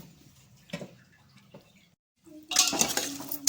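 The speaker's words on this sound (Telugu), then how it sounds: "ఇవి వేసేసుకొని మొత్తం ఒకసారి కలిపేసేసుకోవాలి." Prawn biryani with lemon juice, ghee and fried onions being mixed, a few sparse metal spoon clinks against a pot, followed by a louder burst of scraping and stirring.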